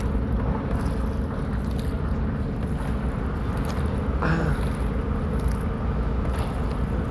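A small boat crossing a river from Telghat to Barabo ghat, heard as a steady wash of water and wind rumble throughout, with no talk.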